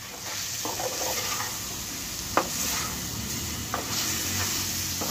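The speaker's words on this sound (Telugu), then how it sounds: "1-2 నిమిషాలు ఈ మసాలా కూడా నుండి చికెన్తో పాటు వేగాలి." Chicken pieces coated in masala fry in a pan for a chicken curry, giving a steady broadband sizzle with a couple of sharp stirring clicks, close and continuous with no talk.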